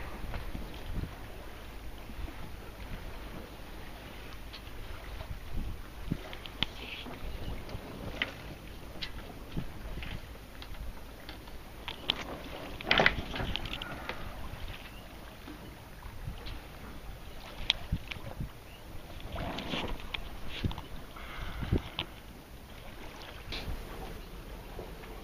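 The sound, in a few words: sailboat sailing back into port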